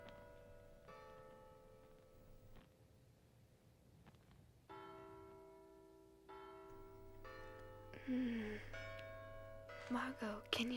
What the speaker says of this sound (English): can you hear the church bells?